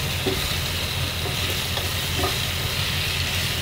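Squash sautéing in olive oil in a pan, a steady close sizzle and hiss with faint stirring scrapes, continuous and alone without talk.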